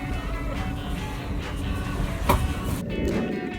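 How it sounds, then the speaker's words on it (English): Steady rumble and rattle inside a moving train carriage in Norfolk, a constant low roar with a brief clack partway through. "We're on the train."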